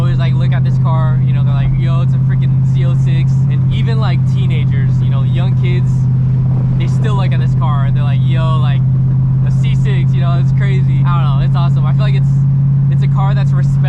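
A Corvette Z06 with a choppy idle cam drives along, giving a loud, constant low engine drone beneath continuous close conversation inside the car.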